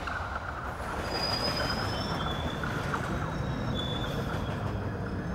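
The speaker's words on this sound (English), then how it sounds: "every day, over 500 trains, running on 250 miles of track, move nearly 3 million people" London Underground subway trains run along the track with a steady rumbling roar, thin metallic wheel squeals rising above it now and then, continuous throughout.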